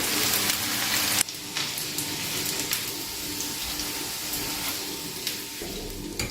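Kebabs dipped in egg frying in hot oil, a steady broadband sizzle running throughout at moderate level, with a brief louder clatter near the start and no talking.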